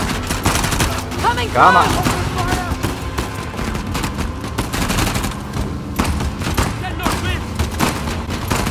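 Heavy gunfire from a firefight in the video game Uncharted: The Lost Legacy, with dense bursts and rattling shots continuing loudly throughout while a voice shouts over the shooting.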